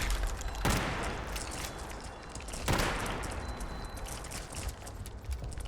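Two sharp lever-action rifle shots in Fallout 76, roughly two seconds apart, each a loud broadband crack with a short decaying tail over steady game ambience.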